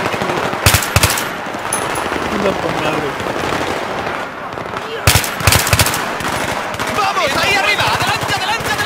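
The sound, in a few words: gunfire in the video game Battlefield 3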